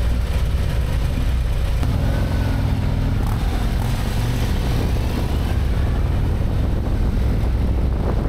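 A 2024 Harley-Davidson touring motorcycle on the move gives a steady, rumbling engine drone mixed with heavy wind rush, loud and continuous with no talking.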